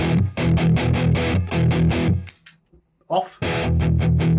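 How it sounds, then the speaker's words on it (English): An electric guitar plays through stacked gain pedals, giving heavy, distorted palm-muted chugging in a fast, even rhythm, loud and close. It breaks off briefly with a few faint noises, then the chugging resumes. "with that gain stacking, you also get that chugging sound"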